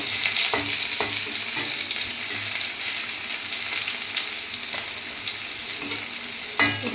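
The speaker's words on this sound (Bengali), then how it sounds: "তেজপাতা আর দেব পেঁয়াজ কুচিয়ে রাখা পেঁয়াজ এটা নেড়ে চেড়ে নেবো" Chopped onions and a bay leaf fry in oil, a loud, dense, continuous sizzle up close, with occasional stirring clatter and no voices.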